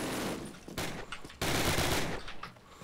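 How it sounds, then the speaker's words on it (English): Rapid machine gun fire from Call of Duty: United Offensive comes in loud, dense bursts separated by brief pauses, with battle noise filling the gaps. "Who's on the machine gun?"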